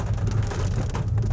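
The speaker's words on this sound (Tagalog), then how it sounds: "Lakas pa rin ng ulan." Heavy rain pours steadily outside a cafe near Clark, Pampanga, a loud, dense low rush with no talk over it.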